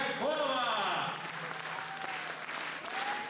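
A concert audience applauds a performer at a Berdychiv show, steady dense clapping filling the hall, with a voice speaking over it at the start.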